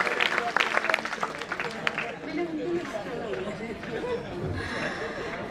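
Audience at a mushaira poetry gathering applauds: scattered claps start strong and thin out into a lingering patter, mixed with crowd chatter and murmuring voices close by.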